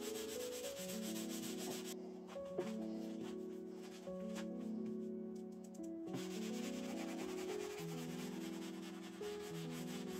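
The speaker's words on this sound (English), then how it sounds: "lightly hand sand using 150 grit sandpaper" Light hand sanding of a teak desk with 150 grit sandpaper after stripping its finish, a steady rubbing scratch that keeps going for about ten seconds over a tonal background.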